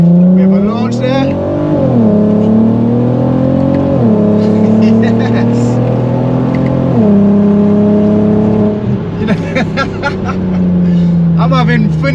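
An Audi TT Mk1 with the 3.2 V6 launches hard and accelerates, its engine loud from inside the cabin, the pitch climbing and then dropping at each of several gear changes, with a brief spoken word.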